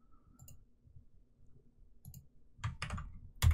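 Sharp computer mouse clicks, a few isolated taps then a quick cluster toward the end, close and fairly quiet against a faint low hum.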